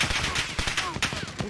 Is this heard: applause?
no